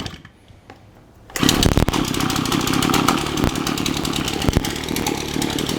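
A Shindaiwa AH242 hedge trimmer engine fires up loudly after a quiet start and runs with a rough, buzzing two-stroke rattle, close and continuous to the end.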